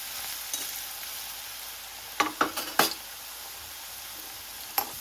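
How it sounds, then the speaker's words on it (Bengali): Potatoes deep fry in sunflower oil in a kadai for chaat, a soft continuous bubbling hiss with a cluster of sharp utensil clicks midway and another near the end. "এখানে আমি অল্প অল্প করে আলুটা একটু ডিপ ফ্রাই করে নিচ্ছি"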